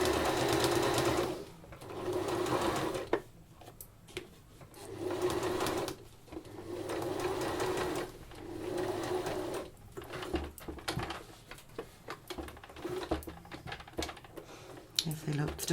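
A sewing machine stitches the seam of a baby apron in several sustained whirring runs separated by brief pauses, close by, with speech heard during the gaps.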